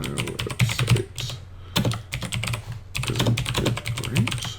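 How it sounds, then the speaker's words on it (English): Steady typing on a computer keyboard, close and crisp, with rapid clustered key clicks broken by two brief pauses, no voices. "I can start typing"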